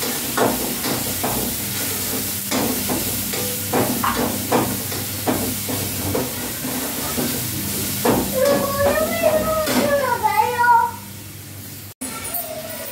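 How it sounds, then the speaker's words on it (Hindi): Steady sizzling and hissing of tomatoes frying with cumin in hot oil, with scattered pops and crackles, ending abruptly. "तो टमाटर का छौंक हमारा हो चुका है तैयार"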